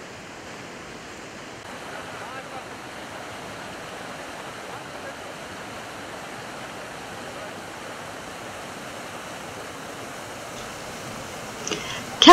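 A stream in the rugged Antalya countryside, joined by another creek, rushes on toward a waterfall, making a steady broadband roar of flowing water that holds constant throughout, with a brief sharper splash or knock at the very end.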